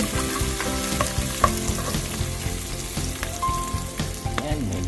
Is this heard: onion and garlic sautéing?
yes